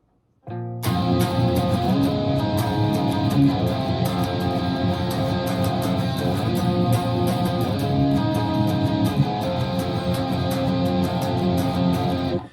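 A loud, dense distorted electric guitar strums a steady driving rhythm, thick and muddy, sustained without pause for about twelve seconds.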